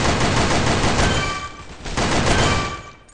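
A machine gun fires nonstop in the shooter game Sudden Attack during a duck-hunting round. The rapid bursts are loud and close, dip briefly partway through, then resume before tailing off.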